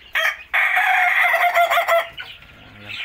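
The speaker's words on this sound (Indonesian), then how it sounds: "Lalu ini ayam kate. Ini juga keluruknya bagus ini." A bantam rooster crows loudly and close by on a poultry farm, one long bright call after a short opening note, then softer clucking as it fades.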